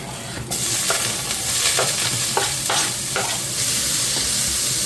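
Onions hitting hot olive oil in a pan for burger steak, a sudden loud sizzle that holds steady with a few scraping stirs, no talking.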